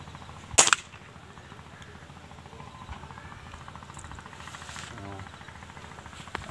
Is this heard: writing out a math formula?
no